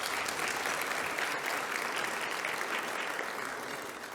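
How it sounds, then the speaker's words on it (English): Steady applause from a brunch audience at a tribute event honoring women business leaders, a dense wash of many hands clapping that holds evenly and fades slightly at the end. "Let us give a round of applause."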